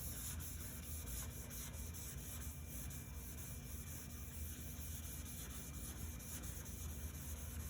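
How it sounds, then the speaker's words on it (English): Car paint is wet-sanded by hand with sandpaper under light pressure, giving a continuous soft, close rubbing hiss with a faint back-and-forth rhythm and no talk. "I'm not using a lot of pressure, just allowing the sandpaper to work across the surface."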